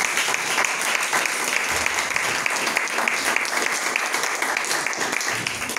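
A church congregation applauds in praise during a service, a dense sustained round of clapping filling the room with no pause.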